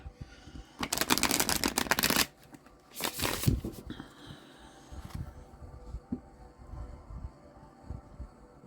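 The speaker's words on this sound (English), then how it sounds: "I'm going to do one more shuffle, and then we'll cut" Cards shuffled in two quick riffling bursts, a longer one then a shorter one, followed by softer handling and light taps.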